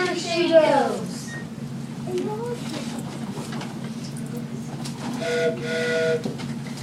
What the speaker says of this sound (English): The boatswain whistles heard again